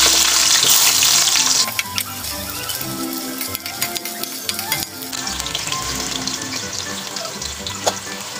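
Potatoes frying in hot cooking oil for chicken afritada, a loud, continuous close sizzle with crackling pops and occasional stirring scrapes, no talking.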